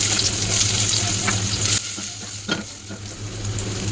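Onions fry in a pan, a loud dense sizzle that drops suddenly to a softer crackle midway, with a couple of brief utensil clicks, no talking.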